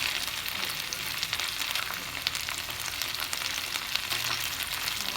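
Fish frying in a pan, a dense steady sizzle with crackling pops continuing evenly throughout, close and moderately quiet, with no talking.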